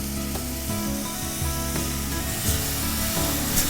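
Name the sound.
pork tenderloins searing in hot butter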